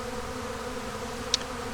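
Honey bees hum around a hive frame as a beekeeper works the colony, a soft continuous buzzing drone close by with one brief faint click.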